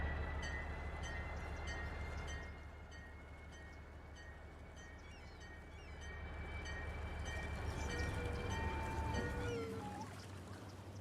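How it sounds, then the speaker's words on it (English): A train rumbles steadily through a Cities: Skylines game scene, a continuous low drone with a brief drop in level, then a rising pitch near the end as it departs, with no talking. "Looks like they're getting on the train."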